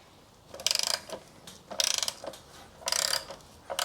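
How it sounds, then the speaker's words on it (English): Ratchet socket clicking while undoing the sump plug on a 2013 Ford Transit Custom 2.2 diesel, three distinct bursts of rapid ratcheting with short pauses, close and clear with no talk. "I generally use a single hex socket where I can."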